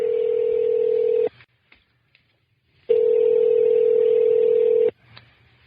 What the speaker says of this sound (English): this phone ring has got drama to it